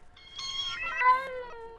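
A cat gives a single clear, drawn-out meow that rises and then falls, close and alone against a quiet background.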